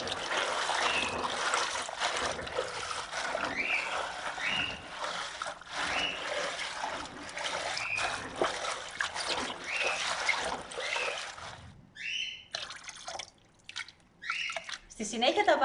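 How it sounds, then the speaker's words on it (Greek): Running water from vegetables being cleaned and washed for a spanakopita filling, a steady broadband wash with drips and trickles, near and moderately loud, breaking into shorter splashes toward the end. "Καθαρίζω και πλένω καλά τα λαχανικά μου."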